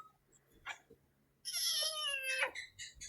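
A cat lets out a long, drawn-out distressed meow that slides downward, followed by a couple of shorter meows, close and fairly clear over a quiet background, with a few faint soft sounds before it.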